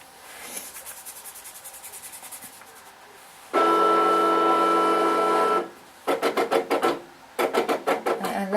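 An electronic cutting machine slices a layer of card, with a soft rhythmic scraping at first, then a loud steady buzzing whir, then bursts of pulsing motor buzz as the blade moves back and forth, all close up with no voices.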